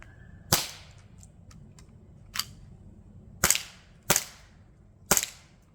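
A CO2 airsoft pistol fires five sharp, close cracks at irregular intervals, each a bright snap standing alone against a faint background hiss.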